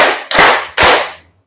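A classroom of students clapping a rhythm pattern together, two loud, sharp group claps about half a second apart, each trailing into a brief ringing decay.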